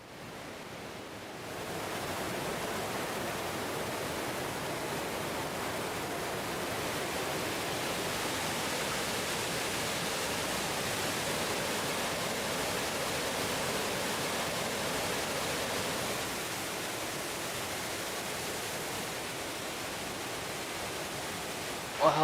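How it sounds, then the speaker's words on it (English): A waterfall gushes down from river bluffs in North Carolina as a steady, broadband roar that holds constant for about twenty seconds, with no voices. "nearby there was an incredible waterfall gushing down from the bluffs"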